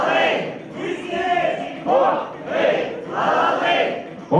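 An audience at a university master's program evening shouts a phrase in unison, loud group shouts rising and falling in several waves close by.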